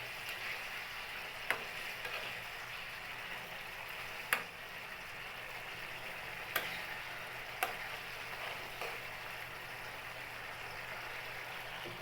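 Two eggs frying in a pan give a faint, even sizzle throughout, with a few sharp ticks and pops scattered across it.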